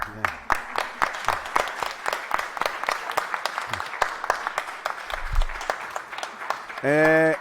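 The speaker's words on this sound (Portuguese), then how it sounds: "Então, uma salva de palmas para o Jobim, né?" Audience applause after a tribute at an academic event, dense broadband clapping running steadily for several seconds at moderate loudness, with a brief voice and a sustained tonal sound at the very end.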